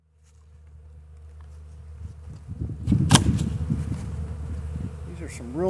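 Honey bees hum in a steady, dense buzz as a hive is opened for a March inspection, the drone swelling louder midway with a sharp click and faint rustling of frames near the end.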